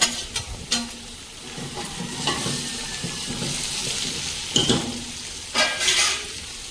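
Pieces of bottle gourd, brinjal, okra and tomato fry for sambar, a continuous sizzle broken by several scraping stirs of a spoon against the pan, close by.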